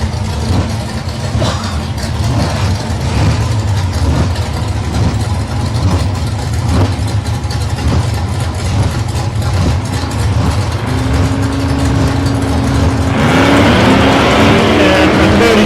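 Drag racing cars, among them a Holden Tough SS and an LX Torana with a 355 cubic inch V8, rumble loudly at a club meeting, with engines idling and blipping before a rising high-rev roar near the end.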